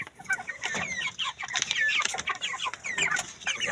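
Backyard chickens cluck continuously at close range, overlapping bursts of short clucks and squawks forming a busy, uneven chatter from several birds.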